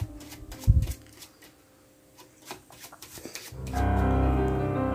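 Playing cards being riffled and mixed together by hand during a magic trick, a few soft shuffling bursts followed by a louder, denser stretch of card noise near the end.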